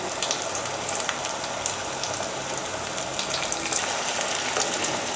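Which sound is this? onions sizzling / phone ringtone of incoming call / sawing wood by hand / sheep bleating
onions sizzling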